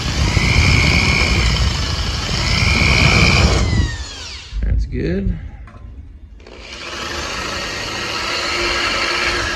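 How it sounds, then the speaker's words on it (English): A drill bores through two overlapping layers of sheet metal into the base metal to prepare plug welds, a steady whining grind that stops briefly midway and then resumes, with a short spoken remark during the pause. "This one I'm going to drill through 1, 2, then just hit the base metal."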